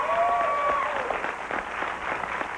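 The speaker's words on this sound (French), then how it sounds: "C'est beau, Hélène, on applaudit." Audience applause at a French dating-style introduction event, a soft steady patter of clapping filling the clip, with a voice briefly heard over the start.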